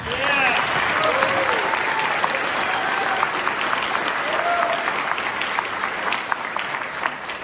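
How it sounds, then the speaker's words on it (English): Audience applause at a Wisconsin Rapids data center information session: a dense, sustained wash of clapping from a large crowd, with scattered whoops and cheers over it. "whoever started that applause break, thank you"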